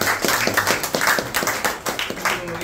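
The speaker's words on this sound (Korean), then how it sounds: "좋은 음식 주신 조장님께 감사 박수 하겠습니다." A small gathering of Korean church leaders claps in thanks to the host of their meal, a brief burst of close, rhythmic hand claps from a few people in a room.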